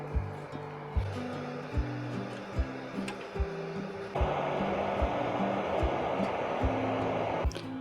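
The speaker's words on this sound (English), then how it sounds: "this little heater can go up to, I think it's 1200. We're gonna run this for a while." Small 1200-watt electric space heater warming a DIY heat chamber for curing epoxy in cold weather, giving a steady fan-like whoosh with soft regular ticking throughout, getting a little louder partway through.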